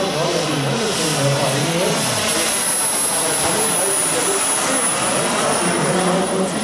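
An RC turbine model helicopter, an Alouette II SA 318 C, flies at a model demo day in Bölsdorf with a steady, loud turbine whine and a high, continuous tone, while someone talks over it in German.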